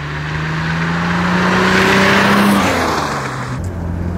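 A 1967 Jaguar E-Type roadster's original 4.2-litre six-cylinder engine pulls hard. It is close and loud, its note climbing steadily and then easing off as the car accelerates.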